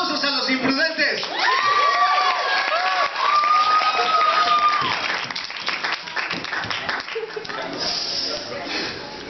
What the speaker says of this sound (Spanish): Otra vez, aplausos a los imprudentes.